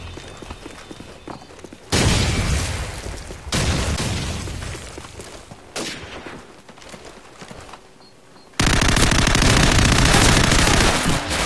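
Gunfire in Call of Duty 4, loud bursts of rapid automatic fire and heavy blasts in several separate stretches, broken by quieter gaps, with no clear talking.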